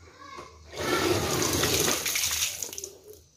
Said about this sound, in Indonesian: kita pakai air mengalir